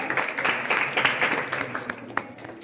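Audience clapping at a school Republic Day event, a loose patter of claps that gradually thins and fades toward the end.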